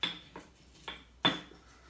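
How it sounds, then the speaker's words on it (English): A muddler pounding sugar and lime in a glass for a Caipirovska vodka cocktail, making four sharp clinking knocks at uneven intervals, close and fairly loud, with quiet gaps between. "now we're going to grind it all together and crush it"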